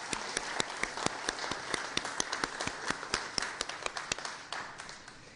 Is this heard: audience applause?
yes